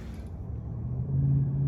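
Gas-powered 150cc fat-tire lowrider scooter idling close to the exhaust muffler, a steady low engine rumble that swells slightly louder toward the end.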